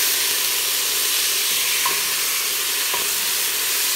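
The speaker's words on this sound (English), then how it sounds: "all I'm doing is browning up the hamburger meat" Ground hamburger beef browns in a pan over medium-high heat, giving a loud, continuous hiss and sizzle with a couple of faint stirring taps; no speech.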